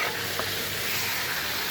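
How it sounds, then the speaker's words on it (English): Jambalaya ingredients frying in bacon grease in a pot, giving a steady, close, moderately loud sizzle and crackle with no talking. "cooking in that bacon grease"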